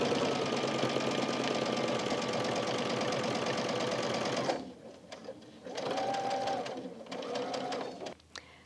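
A sewing machine stitches a quilt-as-you-go strip quilt made of scrap fabric, running steadily up close for several seconds, then stopping and restarting in two shorter bursts.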